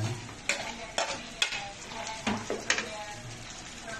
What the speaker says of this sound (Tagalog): So, lalagyan muna natin yung bawang sibuyas, saka luya.